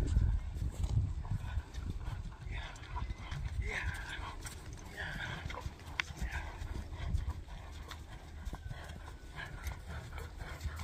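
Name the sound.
horse running, hoof clip-clop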